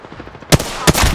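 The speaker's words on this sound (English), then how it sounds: "I am taking fire, friend" Gunfire in a competitive shooter game, two sharp loud shots about a third of a second apart, close and punchy over a low background of game noise.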